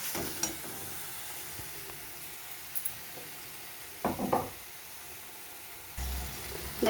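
Ground spices and food sauté in a hot pan for a Bengali chhechra dish, a soft continuous sizzle with occasional scraping stirs and clinks of a utensil against the pan.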